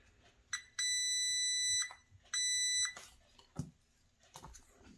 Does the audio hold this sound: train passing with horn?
no